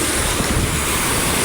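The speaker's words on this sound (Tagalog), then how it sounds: "Narito ako sa unahan mga kabiwas at malalaki ang alon." Large ocean waves roll and surge with strong wind buffeting the microphone, recorded from a small fishing boat near an island on the Pacific in rough weather; a dense, steady roar with no speech.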